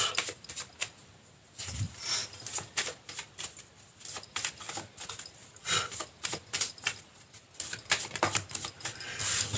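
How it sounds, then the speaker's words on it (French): Tarot cards being shuffled and cut by hand, a close rapid flutter of riffling bursts with short clicking pauses between, fairly quiet and heard alone. "on va touiller un petit peu et on va faire une petite coupe"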